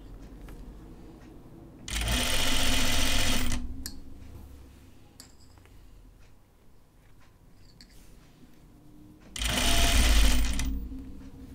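A sewing machine stitches a very narrow hem on a Cheyenne tunic in two loud, steady bursts of about two and four seconds. Quiet fabric handling and small clicks fill the gap between the bursts.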